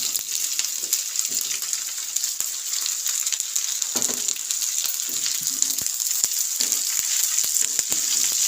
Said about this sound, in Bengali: পেঁয়াজটা আমি নুন দিয়ে একটু ভেজে নেব, লাল লাল করে ভেজে নেব।